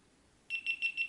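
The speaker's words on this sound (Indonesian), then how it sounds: "Untuk mematikannya ditekan saja sampai bunyi beep." Four short, high electronic beeps from a GoPro Hero 9 Black powering off, in a quick even rhythm after a moment of near silence, clear and close.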